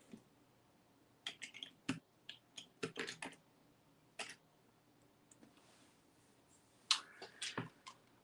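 Scattered, faint keystrokes tap on a computer keyboard in short irregular clusters with quiet gaps as a search is typed, ending with a brief quicker flurry of clicks.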